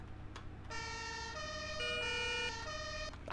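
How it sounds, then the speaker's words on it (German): An NEF emergency doctor's vehicle in Farming Simulator 17 sounds its German Martinshorn, a steady two-tone siren alternating between high and low pitches, loud and continuous with no talking. "Hier war das Martinshorn."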